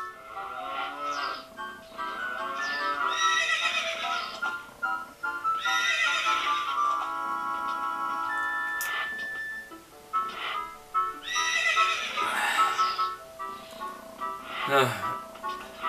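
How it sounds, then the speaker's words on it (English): Horses in the Zelda Ocarina of Time video game neigh and whinny repeatedly, shrill calls rising and falling between bursts, with clip-clopping hooves and game music underneath. "Look at these awesome horses."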